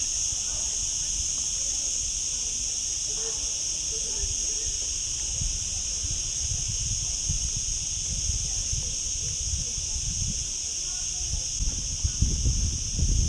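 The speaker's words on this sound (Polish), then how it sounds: "Cykady" Cicadas on Mallorca shrill in a constant high, loud buzz that holds unbroken throughout, over quieter low rustling and outdoor background noise.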